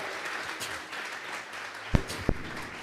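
A church congregation claps together during a Sunday service, a moderate, sustained wash of applause with a couple of sharp louder claps near the end.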